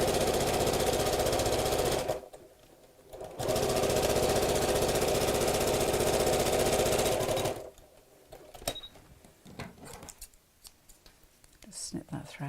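Sewing machine stitching a bag lining, running in two loud continuous bursts separated by a short pause, then stopping; faint handling sounds and brief clicks follow.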